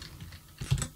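Quick keystrokes on a computer keyboard while typing code, a short run of close, soft clicks with a slightly louder cluster near the end.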